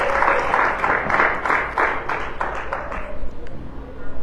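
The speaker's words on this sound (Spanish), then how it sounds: "démosle un fuerte aplauso al Señor" A church congregation applauds at a Sunday service, a dense wash of clapping with rhythmic bursts that holds steady and thins slightly toward the end, with some voices mixed in.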